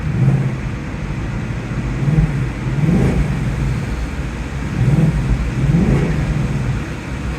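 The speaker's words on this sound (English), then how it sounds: "That of course is from that 5-liter V8, and this thing sounds remarkably incredible." A 2024 Ford Mustang GT with a 5-liter V8 revs its exhaust, a deep, loud rumbling idle broken by several rising revs in two clusters, heard up close and alone.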